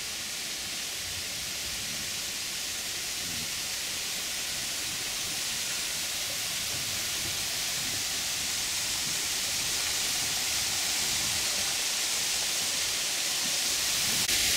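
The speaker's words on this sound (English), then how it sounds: "This is a waterfall in Cove Springs Park in Kentucky." Waterfall at Cove Spring Park in Frankfort, Kentucky, a steady, broad rushing roar of falling water, unbroken and full for the whole stretch, slowly swelling slightly louder toward the end.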